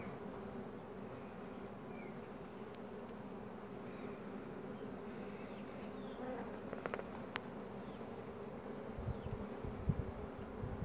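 Dense, steady buzzing of many Carniolan honey bees at an open hive close by, a continuous hum with individual bees darting past now and then.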